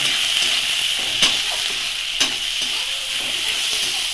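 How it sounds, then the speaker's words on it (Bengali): Onion, garlic and green chili fry in a pan with a strong, steady sizzle up close, broken by a couple of scraping stirs. "একটু পেঁয়াজ দিয়ে দেবো, আর এটা হচ্ছে রসুন। এই রসুনটাকেও দিয়ে দেবো। এটাকে ভালো করে ভেজে নেব।"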